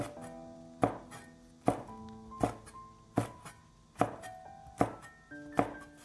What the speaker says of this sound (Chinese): 几个小米辣斜刀切成片。